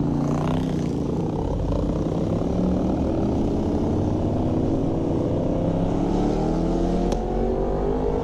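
A motorcycle engine revs continuously and loudly at night, its pitch rising steadily under the roar of a ride, with a brief crack near the end.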